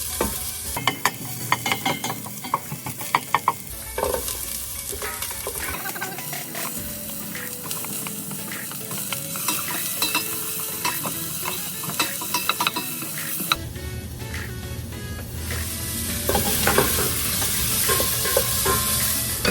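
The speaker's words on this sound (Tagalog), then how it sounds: "Isahin muna natin ng konti, guys, yung mga sibuyas, kamatis at luya" Onions, tomatoes and ginger sautéing in a pan for fish-head sinigang give off a loud, steady sizzle. Stirring scrapes and clatters run through it, and the frying hiss grows brighter toward the end.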